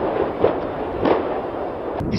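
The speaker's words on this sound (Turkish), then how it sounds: "yangının çıktığı noktada patlamalar gerçekleşiyor" Muffled explosions pop and thud in a few bursts over a constant roar at a burning building-chemicals factory in Hadımköy, Arnavutköy, Istanbul, heard from a distance.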